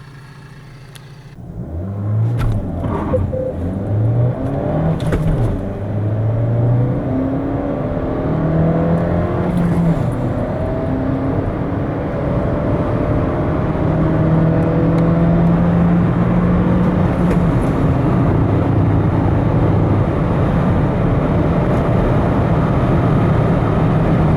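A Renault Kadjar 1.2 TCe 130 hp turbo petrol engine drones steadily while the car drives, a continuous loud hum with rising and shifting tones as it accelerates, heard alone for the full length.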